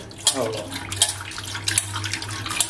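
Tap water runs into a vessel while prawns are rinsed clean, a steady close splashing with irregular louder sloshes and clinks, a voice speaking briefly at the start.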